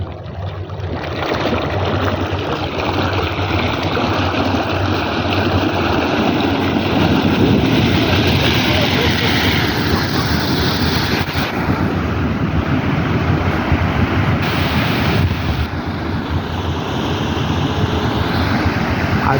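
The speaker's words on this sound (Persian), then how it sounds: "حداقل 10 متر آب پرتاب میشه" Water erupting and gushing from the ground, a steady loud roar of spray about ten metres high that holds constant throughout, with wind buffeting the microphone and no talk.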